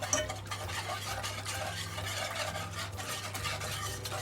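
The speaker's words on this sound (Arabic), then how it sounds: "غادي نحركو" Starch mixture with sugar being stirred for a basbousa cream filling, a steady scraping swirl of a utensil against the pot running continuously and close, with a low steady hum beneath and no talk.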